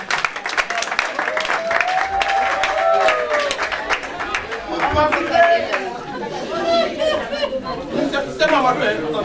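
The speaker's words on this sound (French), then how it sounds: "que je vous demande d'applaudir" A debate audience claps for a speaker, uneven applause mixed with lively crowd chatter and voices, some claps sharp and near, the noise rising and falling throughout.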